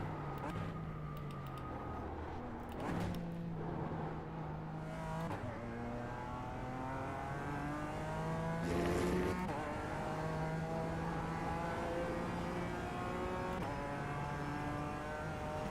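A BMW GT4 race car in the iRacing sim at Zolder, its engine revving up through the gears in steady climbing sweeps with quick downshifts, loud and continuous throughout.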